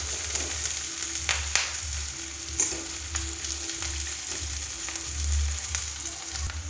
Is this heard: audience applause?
no